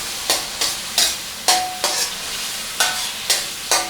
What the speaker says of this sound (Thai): หลังจากนั้นผมจะตามด้วยน้ำเปล่านะครับ เพื่อ ให้มะเขือเทศเรา นิ่มเร็วขึ้นเนาะ